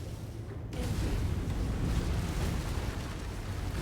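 A generator in the video game MechWarrior 5 is blown up, giving a loud, dense rumbling blast that swells and keeps roaring for several seconds with heavy low-end weight.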